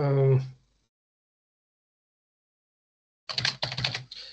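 Quick burst of keys clicking on a computer keyboard, close and crisp, coming after a long silence; a voice speaks briefly at the very start.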